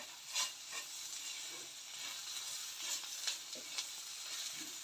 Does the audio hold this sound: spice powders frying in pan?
yes